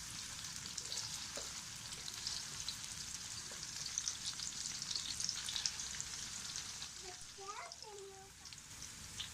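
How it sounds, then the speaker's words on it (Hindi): Onions frying in a pan for an aloo gobi gosht curry, a steady soft sizzle running throughout at low level, with a few faint clinks near the end. "प्याज को अच्छे से फ्राई कर लेना है"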